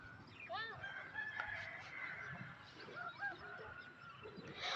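Poultry calling from a nearby chicken farm, with repeated honking, crowing-like calls and clucks layered over a steady distant background, continuous through the clip at moderate distance.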